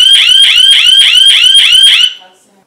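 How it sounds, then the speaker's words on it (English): A motion-sensor home security alarm blares at full volume, a rapid loud chirping warble repeating for about two seconds before cutting off abruptly. "the alarm set off"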